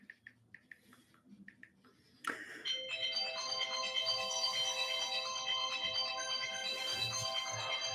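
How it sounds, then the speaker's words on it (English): A phone ringtone starts abruptly and keeps playing steadily as a bright, repeating electronic melody, fairly loud, after a few quiet soft clicks. "someone's phone is ringing."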